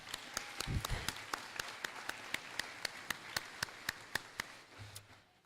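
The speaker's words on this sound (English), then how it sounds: "Give them a round of applause, students." Students at a middle school moving-up ceremony clap, with one sharp regular clap standing out in a steady beat over a thin background of scattered applause.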